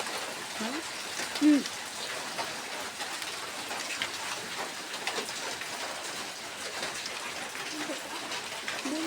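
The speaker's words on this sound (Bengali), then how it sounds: "বৃষ্টি নেমে পড়ছে, দেখুন বলতে বলতে বৃষ্টি কি অবস্থা।" Heavy rain pours down in a dense, continuous hiss, with steady patter on surfaces and a few faint, brief tones in the background.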